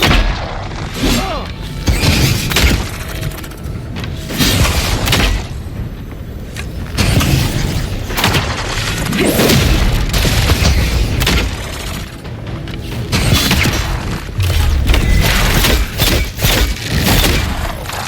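Sustained combat in the fantasy game Avowed: booming explosions, thuds and bursts of fire pile up continuously, loud and dense throughout, with scattered shouted voices mixed in.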